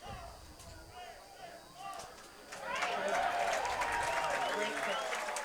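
A baseball crowd of about 1,765 at a Friday night Madison Mallards versus Wausau Woodchucks game is quiet with voices at first, then surges into sustained cheering and applause from a distance.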